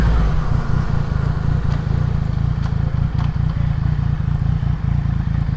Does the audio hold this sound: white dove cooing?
no